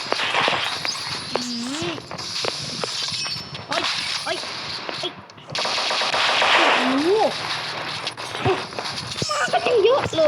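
Rapid automatic gunfire bursts rattle through a video game session, loud and nearly continuous, with sharp single shots mixed in while a player talks over the action.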